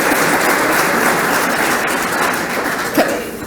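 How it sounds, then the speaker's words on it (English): A live Q&A audience giving a loud, dense round of applause, a sustained wash of clapping that holds steady and only thins slightly toward the end. "that's a round of applause."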